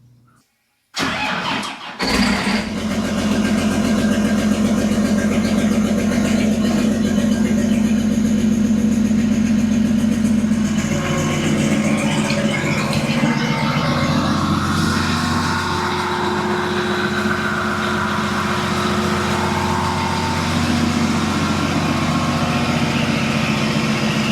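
An engine cranks and catches, then settles into a loud, steady idle that drones on close by, the tone shifting slightly partway through.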